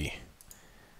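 A single sharp computer mouse click sounds close up in a quiet room, followed by a couple of faint lighter clicks, while a computer graph is being made in Microsoft Word.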